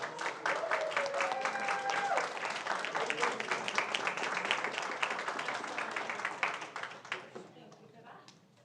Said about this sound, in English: If you want to just like cheer her on